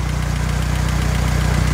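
An antique Hobart welding machine's generator engine runs steadily up close, a loud, even, low knocking throb with a regular pulse and no voices.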